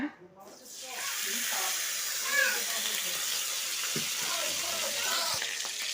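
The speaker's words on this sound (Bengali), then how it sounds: "তো আমি আলুটাকে ভাজি করে নেওয়ার জন্য প্রথমে এখানে তেল দিয়ে দিব" Oil poured into a pan to fry potatoes for aloo bhaji bursts into a sharp hiss, then settles into a steady sizzle while a voice talks over it.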